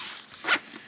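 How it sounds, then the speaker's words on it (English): A zipper is drawn closed on a medium expandable pack bag, one quick, close, soft pull with a brief rasp in the middle of an otherwise quiet moment. "then I just zip her back up"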